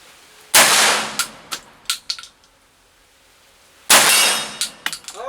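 Two sharp rifle shots from an Alpha Arms SPX firing Hornady SST rounds, each followed by a ringing metallic clang off a 9 by 18-inch steel plate 40 yards away, with a few fainter pings and clicks between them.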